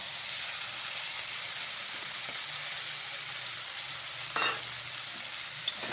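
Cumin paste with coriander and turmeric powder sizzles steadily in hot oil, a constant hiss with a spatula scraping through now and then and one brief sharper scrape near the end.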